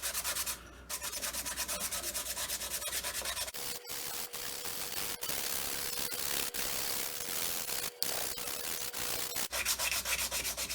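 Old 100-grit sandpaper rubs back and forth over a new wooden handle for an old 4 oz cross pein hammer, making a close, steady rasping hiss in repeated strokes with short pauses.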